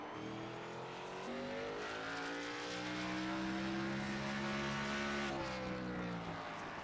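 A race car at Martinsville's short paper-clip oval accelerating off turn 4, its engine note rising steadily and loud, then easing before the end, with a faint tire squeal beneath.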